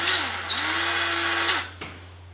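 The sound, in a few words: drill boring a hole in a Hawken rifle stock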